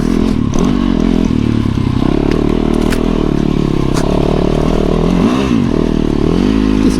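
A dual sport motorcycle engine revs continuously and loudly while riding a shortcut, its pitch rising and falling with the throttle, with no talk over it.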